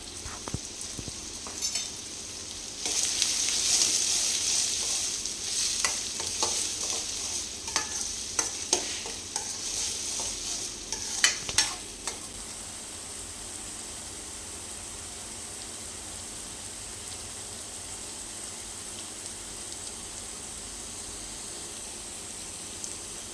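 Onions with salt cooking in a pan: a spatula scrapes and stirs in busy bursts over the steady frying hiss, which then settles into a quieter, continuous sizzle.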